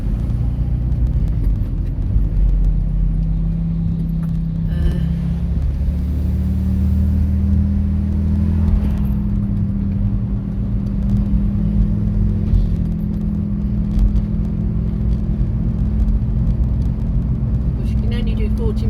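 A van running with a fault and black smoke from the exhaust gives a steady, close low rumble with whirring and slight revving throughout.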